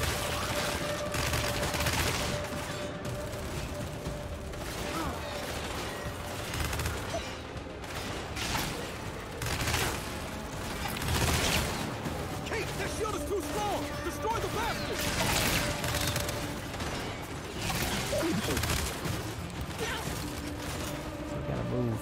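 Continuous heavy gunfire and explosions from the video game Gears 5, dense overlapping bursts and impacts over a full stretch, with combat voices faintly mixed in.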